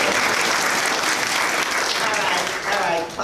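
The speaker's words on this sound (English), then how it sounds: "clap your hands together" An audience at a 2015 citizens forum claps hands together in steady, loud, continuous applause, with crowd voices mixed in.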